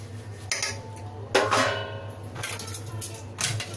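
Kaju katli mixture scraped and poured from a pan onto a greased metal plate, with a few clattering knocks of utensil on metal over a steady hum and background noise.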